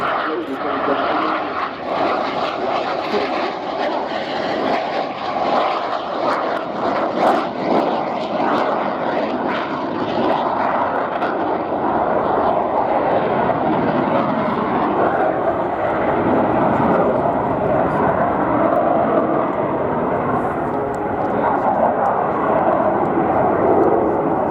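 MB-339 jet trainer flying a solo air display at the Royal International Air Tattoo, a loud continuous engine roar and rush that swells and holds throughout, with a commentator's voice over it.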